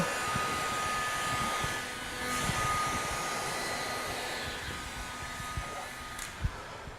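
A heat gun warms vinyl wrap film stretched over heavily deformed car bodywork. It makes a steady, close airy hiss and whir, with a few faint knocks and handling sounds underneath.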